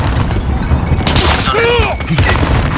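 Gunfire and a grenade blast in the Call of Duty: Modern Warfare multiplayer game, loud and dense throughout, with a sharp burst near the middle and whistling sweeps after it, under shouted callouts from players.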